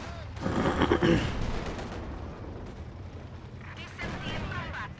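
Bursts of gunfire and booming artillery from Company of Heroes 2 crackle in a dense battle mix, loudest near the start and again toward the end.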